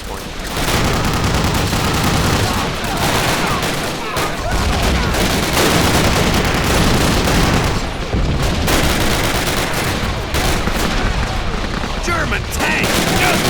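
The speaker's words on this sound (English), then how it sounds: "being shot at by the loudest machine guns in existence" Loud, continuous machine gun fire in a World War II Battle of the Bulge level of Call of Duty, with dense overlapping bursts and booms running the whole stretch without letup.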